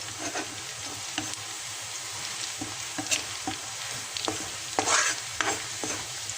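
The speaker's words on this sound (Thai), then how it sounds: "เสร็จแล้วเราก็ใส่กระเทียมเจียวกระเทียมไทยสับไปสองช้อนโต๊ะนะคะ" Chopped Thai garlic fries in about two tablespoons of oil over medium heat, producing a crackling sizzle punctuated by repeated scraping stirs of a utensil, close and steady.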